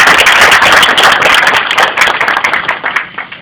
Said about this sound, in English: So I want to give Charlie a round of applause and his church.